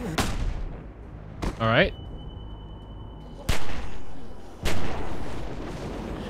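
Gunfire in The Walking Dead Season 2 video game: several loud, sharp shots spaced a second or more apart, with a ringing tone and a brief voice in between.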